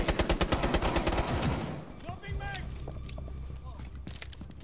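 Pistol shots in a video game ring out as a rapid run of sharp, loud cracks at the start, then give way to game sounds and voices talking over a low rumble.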